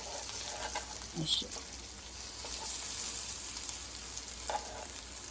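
Mutton chops in a crispy besan and cornflour coating fry in a pan, giving a steady close sizzle with a few soft stirring and turning clicks, and no talk.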